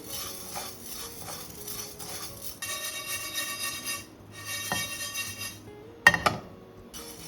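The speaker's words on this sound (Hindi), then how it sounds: "अब डालेंगे मेथी दाना। इसको ड्राई रोस्ट कर लेंगे।" Fenugreek seeds dry-roasting in a pan for mirch ka achaar, with a soft continuous rustle of stirring, faint sizzle and occasional light clinks of a utensil, then a sharp metallic knock near the end; no talking.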